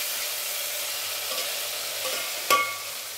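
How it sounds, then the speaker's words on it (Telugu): Masala spices frying in oil for a donda kaya (ivy gourd) biryani, a steady soft hiss of sizzling with faint stirring scrapes and a brief clink near the end, no talking. "ఇలాగా మసాలా అంతా ఆయిల్లో వేగిపోవాలి"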